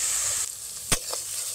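Onion, ginger, garlic and tomato paste sizzling in a pan, a soft continuous fry with one sharp stir or scrape knock near the middle, close and unaccompanied by speech.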